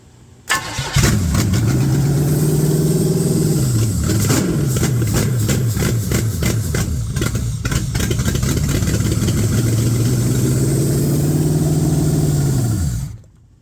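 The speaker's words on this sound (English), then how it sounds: "She's got gas. She should fire up." A 1978 Corvette engine, left sitting for years, cranks and fires up loudly at close range, then runs with a steady rough idle and a few uneven surges before cutting off.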